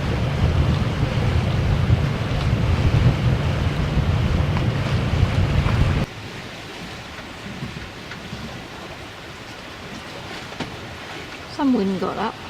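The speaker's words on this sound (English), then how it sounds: "Some wind got up." Wind roars loud and broadband across a sailing boat at sea for about six seconds, then drops to a softer blustery hiss with water sounds, and a voice comes in briefly at the end.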